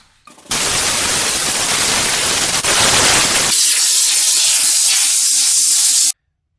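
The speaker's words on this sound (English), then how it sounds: "So I've used this steam cleaner extensively." A handheld high-pressure steam cleaner blasts a loud, steady hiss close by for several seconds, shifting to a thinner, sputtering hiss partway through before cutting off abruptly.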